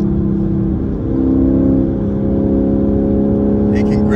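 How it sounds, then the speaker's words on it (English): A Lexus RC-F sports coupe engine drones steadily and then rises in pitch as it revs on a downshift, loud and close, with a voice faintly underneath. "Let's drop it down a gear."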